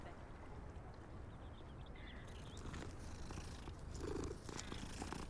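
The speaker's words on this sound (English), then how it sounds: "Oh, let's pet the other cat." A cat in a video game purrs steadily while being petted in a castle courtyard, a soft continuous rumble with faint background sounds.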